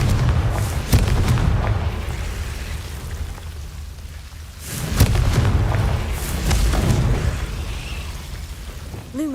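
Explosive Confringo spell cast in a Harry Potter-style video game, sounding as repeated loud, booming blasts with a rumbling, crackling tail, two big bursts standing out.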